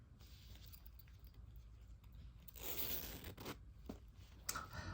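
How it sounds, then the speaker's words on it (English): A zipper is pulled shut on a hand-sewn project bag, giving a short close raspy run of metal teeth after a quiet stretch of faint fabric handling, followed by a few small clicks. "let's close the zipper"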